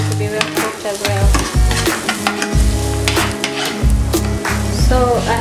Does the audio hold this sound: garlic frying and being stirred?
yes